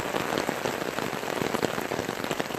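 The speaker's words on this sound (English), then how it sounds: "today what we hear is a lot of rain, a lot of water" Heavy rain pours outdoors, a dense, steady patter of drops striking surfaces, continuous and fairly close, with no voices over it.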